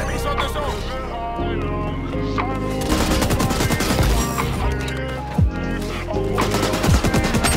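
An M60 machine gun in XDefiant fires loud rapid bursts of automatic gunfire with sharp cracks and impacts, dense and close throughout, with a voice talking over it.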